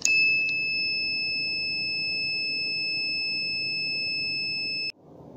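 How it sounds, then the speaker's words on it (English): A low-cost office dustbin's anti-theft alarm gives a continuous, piercing high electronic beep for about five seconds before cutting off, over a low hum. "If any third person tries to theft the device, it produces the beep sound."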